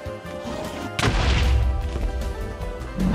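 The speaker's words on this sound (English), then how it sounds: "Let me destroy these crystals!" End crystals bursting in Minecraft: a sudden loud explosive crack about one second in, followed by rumbling blast noise and another hit near the end.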